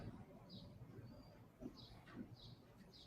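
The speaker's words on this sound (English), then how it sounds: "it's birds outside my window who are trying to cheer me up" Birds chirp outside a window, a few faint high calls repeating at intervals over a quiet, murky room background.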